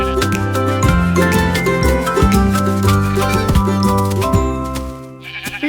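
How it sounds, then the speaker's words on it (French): Sheep from a flock bleating in a French children's nursery-rhyme song, wavering animal cries set over steady musical backing, loud and close, fading briefly near the end. "petit Bo Peep a dû chercher le mouton"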